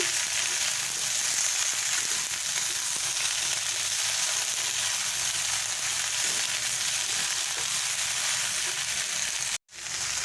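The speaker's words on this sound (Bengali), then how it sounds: "যে ভেন্ডিটা কেটে রেখেছিলাম ওটাও দিয়ে দিচ্ছি দিয়ে আমি ভালো করে মিশিয়ে নেব" Steady, dense sizzling of chopped okra (bhindi) frying in a pan, loud and close with a constant hiss and light stirring, briefly cutting out near the end.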